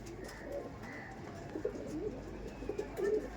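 Panjabi pigeons coo softly and repeatedly, low rolling calls close by in a quiet loft.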